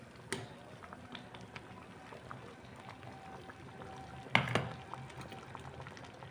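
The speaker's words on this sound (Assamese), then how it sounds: "এয়া উতলিছে" A pot of dal with taro and elephant apple simmers on the stove in a home kitchen, giving a soft, steady bubbling hiss, faint and close, broken by a couple of brief sharper clinks or splashes.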